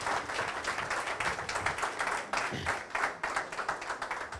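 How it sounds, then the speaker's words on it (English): An audience applauds a guest speaker at an IT talk, a roomful of hands clapping steadily and densely, fairly loud and continuous throughout the short stretch. "he really deserves a bigger round of applause for coming and talking to us"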